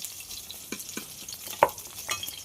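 Boiled eggs fry in hot oil in a pan, a soft sizzle with a few sharp utensil clinks and scrapes, one louder tap standing out near the middle.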